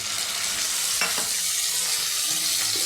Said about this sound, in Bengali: দারচিনি আর তেজপাতাটা পুরো ভাজা ভাজা হোক